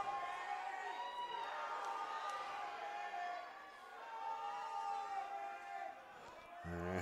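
A distant Australian crowd cheers and roars at an under-19 men's lacrosse championship match, swelling and easing over several seconds beneath a commentator's voice.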